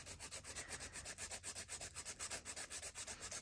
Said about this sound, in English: I feel like I can file it down to a decent shape.